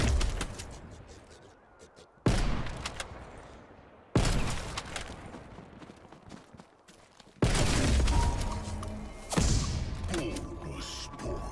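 Gunfire in Call of Duty Cold War Zombies: four loud bursts of automatic fire, each starting abruptly and trailing off into echoing crackle, with faint game sounds between bursts.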